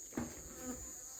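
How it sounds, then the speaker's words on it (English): Honey bees buzz around a light at a forest apiary during a hive relocation, giving a faint, steady drone with a close buzzing pass near the start against a quiet outdoor background. "the bees coming at the light now"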